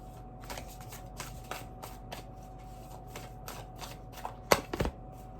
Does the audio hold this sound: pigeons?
no